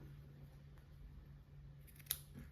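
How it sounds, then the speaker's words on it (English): A pair of scissors gives a single quiet, crisp snip as bits of craft material for decorating a pumpkin are trimmed at an angle, in an otherwise hushed room. "just snip those bits off at an angle"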